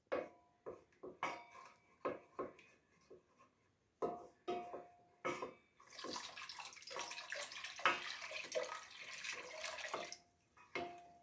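Water poured from a tap into a bowl of flour while mixing a dough in a home kitchen, a series of short splashes and trickles followed by a longer continuous pour, close and fairly quiet.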